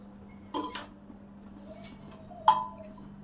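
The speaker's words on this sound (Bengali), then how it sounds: "সমস্ত মটন প্রেসার কুকারের মধ্যে দিয়ে দিলাম" Mutton pieces go into a metal pressure cooker, giving two distinct clanks a couple of seconds apart over a low steady hum, close by and otherwise quiet.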